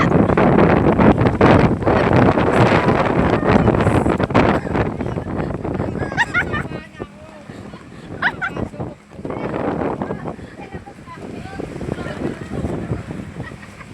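Strong typhoon wind batters the microphone in loud, continuous roaring gusts that ease off midway and then pick up again, with heavy rain, a person talking and a dog barking close by.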